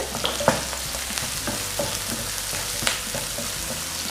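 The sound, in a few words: chopped onions frying in hot oil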